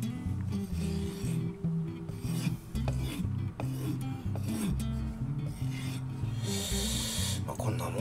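A kitchen knife is sharpened on a heavily wearing whetstone, with steady rhythmic rasping strokes of steel on stone, close and moderately loud, and no talking.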